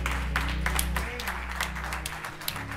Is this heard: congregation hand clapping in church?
yes